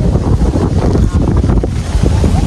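Steady wind buffeting the microphone outdoors, a loud continuous low rumble with gusty fluctuations throughout.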